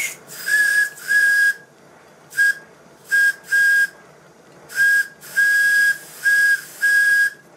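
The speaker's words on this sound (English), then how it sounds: "Once the water clears from the piping, the whistle works very well and is still only running on 30 pounds per square inch." A steam whistle on a model steam engine running at 30 psi gives a series of short hissing toots in an irregular rhythm, close and clear with no talk.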